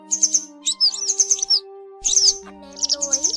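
A recorded yellow and white wagtail call played back as a trap lure: bursts of bright, quick chirps and tweets in short phrases, loud and close, over a faint steady hum.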